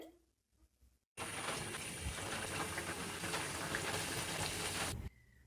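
Karanji pastries deep frying in hot oil, a dense, steady bubbling hiss that starts abruptly after a quiet moment, stays loud and even for about four seconds, then cuts off.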